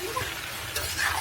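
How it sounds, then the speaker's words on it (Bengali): Chicken pieces drop into a pan of fried chili-paste masala for a roast, setting off a brief burst of sizzling and frying with a quick stir, close and fairly loud. "এখন আমি দিয়ে দিচ্ছি এই যে চিকেনগুলো।"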